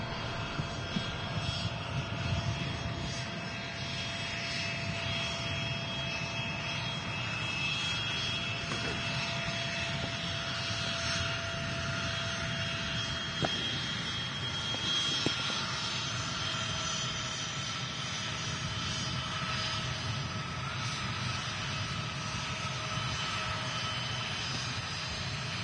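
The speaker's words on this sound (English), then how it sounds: "And the Lufthansa Neo touching down as well." A Lufthansa A320neo airliner touches down at Manchester Airport, its engines giving a steady, broad roar that holds at an even loudness throughout, heard from a distance with no voices.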